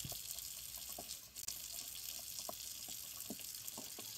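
Hot tap water runs quietly into a sink while eggs are washed, a soft continuous stream broken by a few light knocks and splashes, with no talking.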